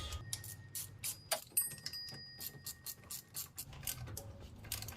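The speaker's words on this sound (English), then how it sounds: "Turn the bolts a couple turns, get that thread to start, and then just use a ratchet" Ratchet fitted with a 12 mm socket and 2-inch extension tightening timing cover bolts on a Honda Pilot V6, giving rapid rhythmic pawl clicks in repeated bursts, close and clear with no talking.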